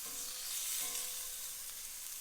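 Meatballs browning in a hot pan give off a continuous bright sizzle and hiss, close and steady, with a faint stirring tap and no speech.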